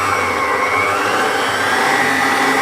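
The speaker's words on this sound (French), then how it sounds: "Je mets l'ustensile pour pétrir. Je referme. Je vais lancer." A kitchen machine fitted with a kneading attachment starts working multigrain bread dough, giving off a loud, steady motor whir that fills the whole moment with no pause and no voices.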